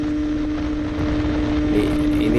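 A Yamaha RX King two-stroke motorcycle engine runs flat out at top speed with a loud, steady buzzing drone and rushing wind. Faint voices are heard.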